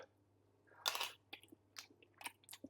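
French onion and cheese gnocchi being chewed close up, with wet, soft bites and a few crisper crunches in an uneven rhythm, faint and alone.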